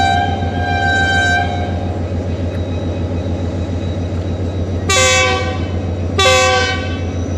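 The Shalimar Express passenger train rolls past close by in Sindh with a constant low rumble of wheels and cars. A sustained horn blast opens the clip, and two more sharp horn blasts follow near the end.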